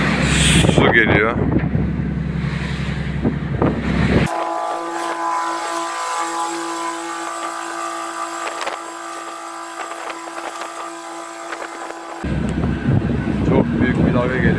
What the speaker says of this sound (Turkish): Çok büyük bir dalga geliyor ama şimdi bir dalgadan düşeceğiz.